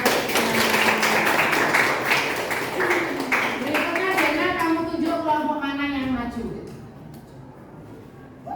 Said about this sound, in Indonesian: Iya, tepuk tangan buat kelompok